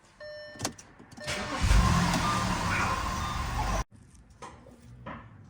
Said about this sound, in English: now we'll start the car and leave it run on idle for about 15 minutes